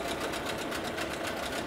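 A used boat outboard motor runs steadily with water circulating, giving a fast, even mechanical chatter with a rapid pulsing rhythm, close and continuous throughout.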